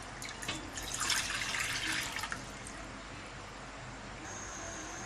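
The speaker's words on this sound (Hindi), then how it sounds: "पानी डालेंगे, 2 गिलास पानी।" Two glasses of water pour into a cooking pot for chicken lasagna, a splashing, gushing stream lasting about two seconds before the kitchen falls quiet.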